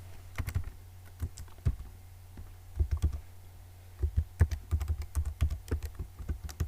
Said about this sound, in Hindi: हम यहाँ पे टाइप करते हैं।